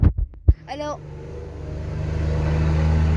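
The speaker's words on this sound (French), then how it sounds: "si vous entendez des bruits de camion, de bagnole, c'est parce que voilà" Steady low traffic rumble outdoors builds and swells after a few short thumps and a brief voice, like vehicles passing on a nearby road.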